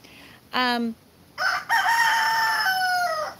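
A rooster crows loudly and close, first a short harmonic call and then a long drawn-out cock-a-doodle-doo that dominates the recording.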